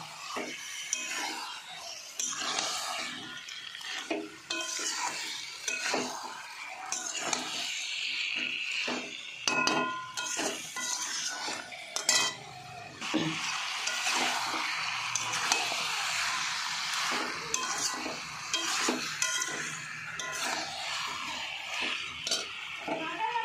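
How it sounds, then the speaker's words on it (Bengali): Chicken pieces and potatoes being stirred and fried with spices in a pan, with repeated scraping and clinking of a spatula against metal over a soft sizzle, close by and uneven in rhythm. "এবার মাংসগুলো কষতে থাকবো মশলার সাথে।"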